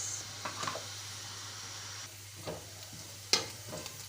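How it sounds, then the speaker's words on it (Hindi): Sliced medium onion fries in oil in a kadai with a steady, quiet sizzle, broken by a few scraping stirs and clinks of a spatula against the pan. "प्याज हमारा हल्का सा फ्राई होना शुरू हो गया"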